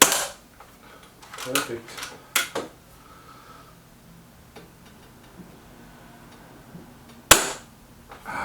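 Sharp, distinct shots from a Weihrauch HW 100 air rifle firing pellets, several spaced cracks across the span with a louder one near the end, plus faint mechanical clicks and a short spoken word.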